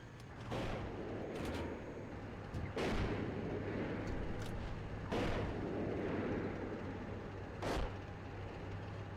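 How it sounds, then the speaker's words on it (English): Gunfire and artillery in the tank simulator game Steel Beasts Pro PE: several heavy booming shots spaced a few seconds apart over a constant rumbling engine drone, each blast sharp then fading. "Question is if that is our own fire still shooting, or if that is enemy fire."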